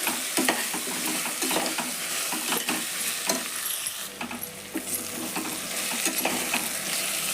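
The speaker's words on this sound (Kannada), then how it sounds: "ಇದು ಎಣ್ಣೆ ಒಳಗೆ ಫ್ರೈ ಆಗಲಿ ಮಸ್ತ್ ಗಮ್ಮನ ಆತೈತೆ ನೋಡ್ರಿ ಒಗ್ಗರಣೆ ಭಾರಿ ರೀ ಇದು" Cabbage pulao tempering frying in hot oil, a steady close sizzle with frequent scraping stirs and light clatter throughout, no voices.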